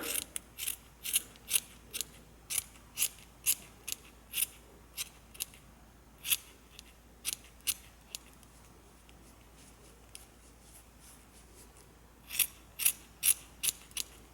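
Scissors trimming a crochet yarn pom-pom, a long run of crisp close snips in a fairly even rhythm, pausing briefly before a final quick burst of cuts.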